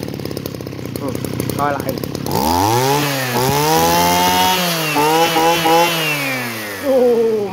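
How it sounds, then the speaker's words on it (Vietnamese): An engine with its throttle raised is heard close by, rising from a rough idle into a loud, buzzing rev that climbs and dips in pitch several times, with a voice speaking briefly over it. "Đấy, mọi người nghe tiếng máy chưa?"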